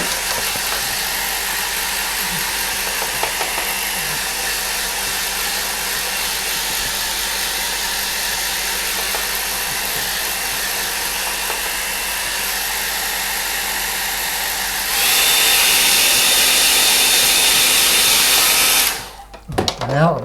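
A hair dryer blows on a watercolour painting of a wooded stream, a steady whirring roar that runs unbroken and grows louder near the end before cutting off with a brief clatter.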